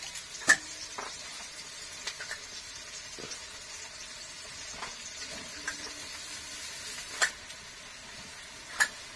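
Chowmein frying in a pan with egg and vegetables, a faint steady sizzle under scattered clinks and taps of a utensil against the pan, with no talking.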